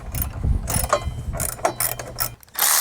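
Hand ratchet tightening 10mm nuts on a running-board step bracket of a Jeep Gladiator, giving rapid close clicking runs in several bursts with brief pauses between them.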